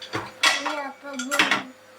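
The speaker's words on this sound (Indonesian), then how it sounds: "Potato masher." A potato masher clattering among dishes and pans being washed in a Japanese home kitchen, two loud metallic clanks and rattles, close and clear with no talking.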